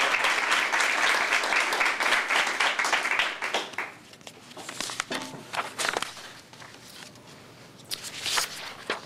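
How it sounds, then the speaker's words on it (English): An indoor audience at a community scavenger hunt event applauds, with loud dense clapping for about four seconds that then thins into scattered claps, shuffling and a brief renewed burst near the end. "So a round of applause for everybody in your participation."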